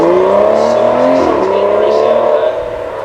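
A supercar at a motor track accelerates hard and close, its engine note rising and falling in a loud, sustained roar while a person talks over it.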